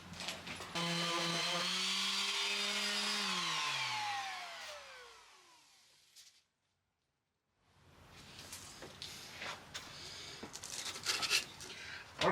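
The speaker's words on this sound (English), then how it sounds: "Works better if you put on a sanding pad." A power sander whirs at high speed on wood, then its motor winds down in falling pitch and goes quiet before scraping and rustling pick up again.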